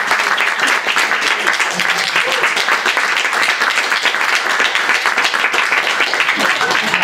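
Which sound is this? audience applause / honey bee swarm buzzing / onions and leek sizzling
audience applause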